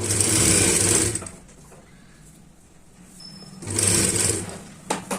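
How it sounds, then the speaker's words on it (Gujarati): Sewing machine stitching the button placket of a katori-style blouse, running in two short, close bursts of fast whirring with a quiet gap between them. "અને સિલાઈ કરી લેશું"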